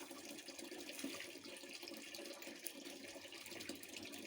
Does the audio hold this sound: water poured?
yes